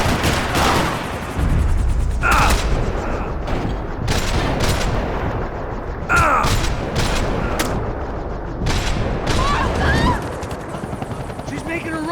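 Gunfire in the video game Max Payne 3 during a chase, with repeated bursts and broadband shots cutting through a loud, dense mix of engine rumble and game noise, with voices shouting over the action.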